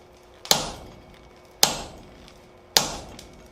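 Three sharp metallic hammer strikes on hot steel set in a swage, evenly spaced about a second apart, each ringing briefly before fading, close and loud.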